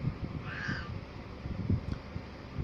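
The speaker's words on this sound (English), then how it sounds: "Cats." Two cats meowing and yowling at each other, a drawn-out cry early on over a constant low rumble, with scattered fainter calls afterward.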